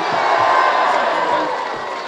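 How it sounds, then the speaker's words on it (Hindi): Student audience at a university poetry recital in Bhakkar cheering and clapping, a loud crowd roar with whoops and shouts that slowly eases. "जोरदार तालियां"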